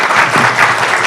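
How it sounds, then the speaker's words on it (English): Brief burst of loud, close audience applause at a tobacco taxation conference, a steady wash of hand claps with no talk. "Let's clap for them."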